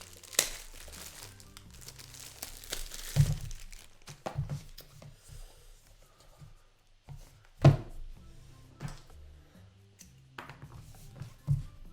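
Packaging crinkles, tears and thunks as a Xiaomi Black Shark 2 phone box is opened, with irregular close rustles and a few sharp knocks over about twelve seconds, no talking.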